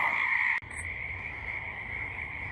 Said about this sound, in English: here we have found our very first Pacific chorus frog, Hyla regilla